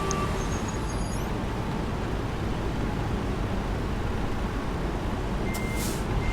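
A noisy container port in American Truck Simulator, with a dense steady rumble of trucks and machinery throughout, broken by high reversing beeps near the start and again near the end.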